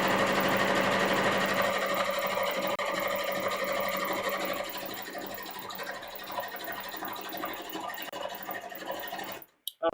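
A sewing machine stitches short gathering stitches close to the edge of a muslin bodice, with a steady rapid rattle running loud and near for nearly ten seconds before stopping abruptly.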